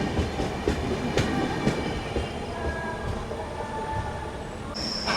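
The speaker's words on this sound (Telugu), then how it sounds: "ఈ పక్క అయితే హౌరా మెయిల్ అయితే వెళ్ళిపోతుంది." Howrah Mail express train passing through a station, a steady rumble of rolling wagons with clattering wheels and brief metallic squeals, fairly close and continuous with no talk.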